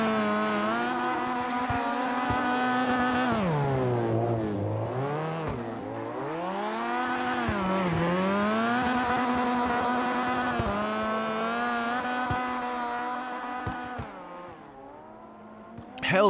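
Mazda RX-7 race car at a drift event, its engine howling and revving up and down in long swooping sweeps, loud and close, with brief tire squeal near the end.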